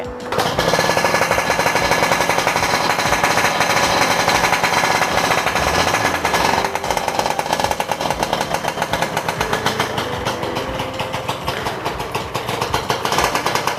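An old two-stroke motorcycle engine, a Yamaha RX100 or Honda NSR, runs loud and close with a rapid, crackling, jackhammer-like beat, briefly shifting pitch midway before settling into a steady idle rattle.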